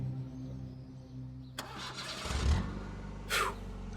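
A car engine cranks and catches, then settles into a rumbling idle with a brief rev, fairly close and alone without talk.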